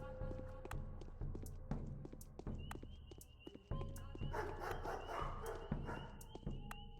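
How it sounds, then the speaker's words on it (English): Angry dogs bark in sharp, scattered bursts amid thudding steps and a faint sustained tone, in the video game Pathologic; moderately distant and fairly quiet. "Angry dogs about, but that's fine."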